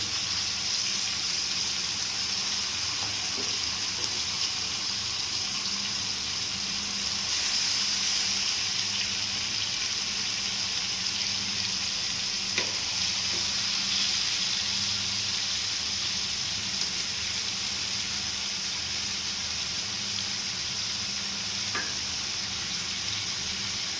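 Washed chicken pieces hit hot oil with curry leaves in a pan for chicken curry. A loud, steady sizzle and frying hiss runs continuously and close, with a few faint clicks of utensils.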